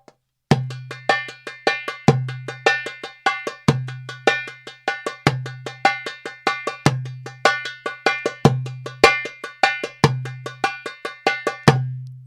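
Darbuka played in the Malfuf 3 rhythm: a repeating pattern of deep doum strokes followed by quick runs of sharp, ringing tek hits, close, clear and steady with no voices.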